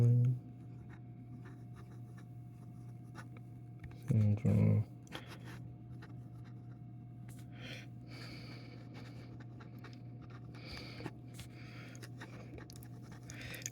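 A sterling silver Montblanc 146 Solitaire Pinstripe fountain pen writing on paper, a faint scratchy nib scraping in short strokes over a steady low hum, with a brief louder bump partway through.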